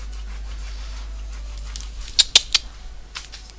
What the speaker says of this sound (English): my dog starts freaking out about the couch